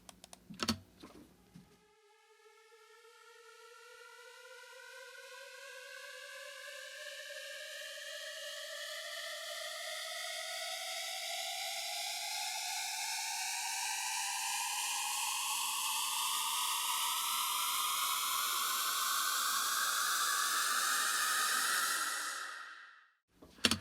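An EDM synth riser, tempo-synced as a build tension builder, swells steadily upward in pitch and loudness for about twenty seconds, then cuts off abruptly; bright, noisy, and alone.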